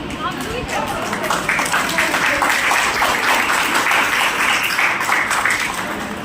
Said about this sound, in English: Kindly please clap everyone.